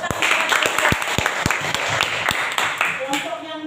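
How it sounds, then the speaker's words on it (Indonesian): Applause for a student group in a classroom coding lesson, a dense burst of many hands clapping with sharp individual claps standing out, loud and close, with some voices mixed in. "Oke, berikan tepuk tangan"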